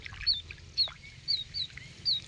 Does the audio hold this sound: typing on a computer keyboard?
no